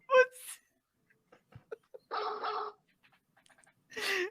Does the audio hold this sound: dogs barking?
yes